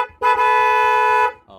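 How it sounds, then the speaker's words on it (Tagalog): A Smash 115 carb motorcycle horn is tested during electrical troubleshooting. It gives a single steady, close, loud blast of about one second, ending in a brief lower tone. "Busina"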